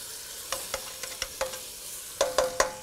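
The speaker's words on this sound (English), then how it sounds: "I'm stirring with the brush because that's what we do in Texas" Tomato sauce is stirred in a pan with a brush, producing a faint sizzle with scattered light scrapes and taps, then three louder strokes near the end.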